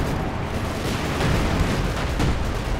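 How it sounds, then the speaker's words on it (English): A dense, continuous rumble of artillery fire and explosions in the Company of Heroes 2 battle game, loud and unbroken, with no voices over it. "But getting hit by their own artillery is less good."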